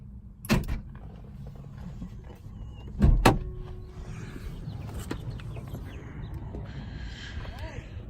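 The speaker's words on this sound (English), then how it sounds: "press the door lock button to activate the alarm system, and you shut the door" Door lock actuators clunk and a door slams shut on a 1991 Chrysler New Yorker parked in a garage, two sharp close impacts about three seconds apart, followed by faint chimes or alarm tones over low background noise.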